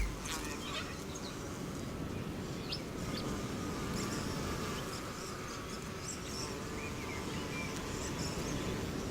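Dense, steady buzzing of many insects pollinating plants in Australia, a continuous droning swarm filling the air at even loudness throughout, with no voices.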